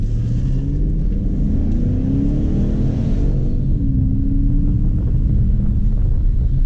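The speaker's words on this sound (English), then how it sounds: "So this is the L77 motor." Police car with an L77 V8 engine revving hard and loud, a continuous deep rumble that climbs in pitch, drops back, then climbs again, with no voices.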